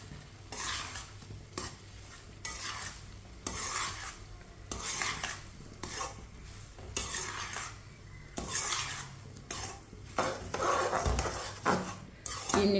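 A spoon stirs sugar into semolina halwa cooking in a pan, making rhythmic scraping strokes about every second over a soft sizzle, close and alone with no voices.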